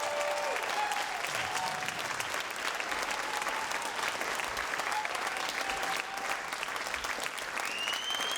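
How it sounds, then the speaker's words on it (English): Audience applause at a political organizing event for building a progressive movement, dense sustained clapping from a room full of people at a moderate distance, with no talking over it. "Can we just, one more round of applause for Nina?"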